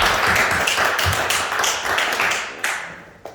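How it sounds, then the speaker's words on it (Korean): Church congregation clapping together in worship, a loud, busy patter of many hands in quick rhythm that gradually thins and fades, ending with a few last isolated claps. "박수로 하나님께 영광 돌리겠습니다."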